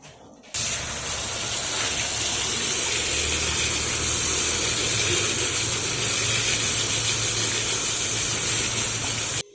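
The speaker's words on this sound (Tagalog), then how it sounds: "isprayan natin ng tubig." Water sprayed onto an uprooted adenium with a dense, heavily overgrown root mass, a steady loud hiss that starts abruptly after a brief quiet moment and runs unbroken to the end.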